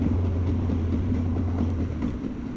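A train rolls along the coast of Hokkaido, giving a steady, loud low rumble and hum of wheels and carriage that holds constant from start to finish with no voices.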